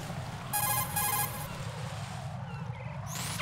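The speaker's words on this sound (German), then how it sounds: "Deswegen rufe ich jetzt nochmal Pliskin an." Codec call ringing in the Metal Gear Solid 2 video game, a bright electronic chirping ring in two quick bursts over a steady background hum, with no talk.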